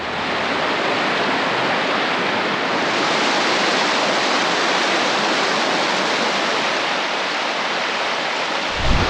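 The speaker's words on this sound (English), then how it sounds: "Fraser River, where Churn Creek comes in" The Fraser River rushes at the point where Churn Creek flows in on a sunny fall day, a loud, steady broadband roar of moving water that holds constant throughout, heard close with no voices.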